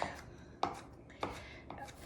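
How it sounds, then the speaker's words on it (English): A knife chops garlic cloves on a cutting board for roasted asparagus, giving four sharp, evenly spaced knocks, close and distinct, with no talking. "And I'm chopping up 2 cloves of garlic."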